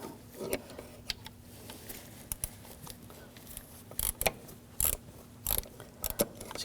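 A ratchet with a T30 socket works a sensor bolt loose on a 2006–2009 Audi S4 4.2L V8, giving faint, scattered metallic clicks in short bursts against a quiet background.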